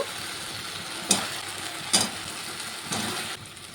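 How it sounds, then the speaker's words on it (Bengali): Fried potatoes go into a frying masala for a potato and catla fish head curry: a soft, steady sizzle with a few distinct knocks and scrapes of the spoon against the pan, close but fairly quiet. "এখন আমি ভেজে রাখা আলুটা দিয়ে দেব"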